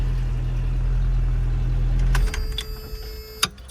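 A Toyota pickup 22RE engine, running a little rich, idles with a steady low hum for a couple of seconds, then cuts off, leaving faint clicks and a sharp tap.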